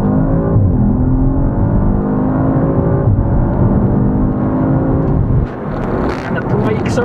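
A 2019 Audi RS5 engine pulls hard from low revs under full throttle, a loud, dense rising roar that holds steady for several seconds, then shifts and surges again with some rattling near the end; a voice is faintly present.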